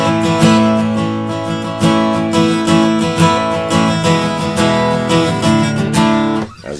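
Acoustic guitar strummed steadily in a steady pattern, the picking hand varying how hard it hits the strings; close and full, alone with no voice, ending abruptly.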